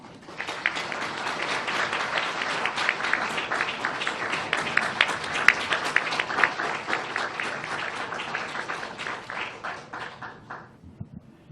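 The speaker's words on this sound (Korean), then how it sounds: "그럼 강기갑 강사님을 큰 박수로 모시겠습니다" A forum audience of Gyeonggi provincial staff gives loud, dense applause to welcome a guest lecturer, sustained for about ten seconds before thinning out and fading at the end.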